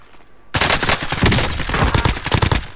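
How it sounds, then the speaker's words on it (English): Loud, dense automatic gunfire in Call of Duty Warzone erupts after a brief quiet moment and rattles on in rapid, continuous bursts. "I'm taking fire!"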